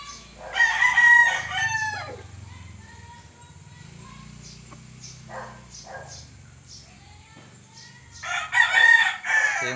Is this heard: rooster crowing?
yes